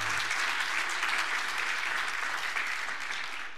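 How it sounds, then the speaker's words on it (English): Sustained applause from a sizable church congregation at a worship service, many hands clapping together at an even level before tapering slightly at the end. "Can you give a big round of applause for them?"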